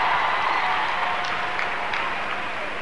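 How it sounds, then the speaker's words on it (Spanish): Concert audience applauding during band introductions on a 2000 concert tour, a dense steady wash of clapping that holds evenly throughout without a clear break. "Un aplauso para él."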